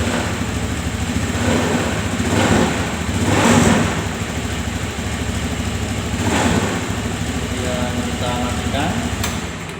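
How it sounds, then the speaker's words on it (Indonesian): A car engine idles steadily while warming up, a low continuous hum with a few slight swells, and people talk over it. "sebelum itu kita panaskan mesinnya dulu sekitar"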